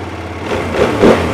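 A 2023 QJMotor SRT800X adventure motorcycle engine idles close by, a steady low rumble that swells slightly toward the end of a short stretch.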